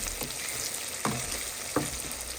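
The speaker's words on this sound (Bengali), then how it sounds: "অনেকগুলা পেঁয়াজ দিয়ে আমি ফিশটাকে ভাজি করছি।" Sardines frying with plenty of onions in a pan, a constant close sizzle with a few sharp stirring scrapes, no voices.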